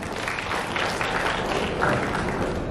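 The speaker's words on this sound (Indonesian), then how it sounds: "Tepuk tangan untuk rakyat Indonesia." Audience applause at a peace declaration event in Indonesia, a dense, steady wash of clapping from a large crowd that holds at an even level throughout, with no voice over it.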